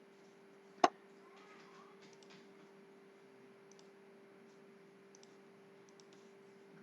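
A single sharp computer mouse click, close and clear against a quiet room hum, followed by only faint, sparse ticks and no speech while a Microsoft Word option is being selected.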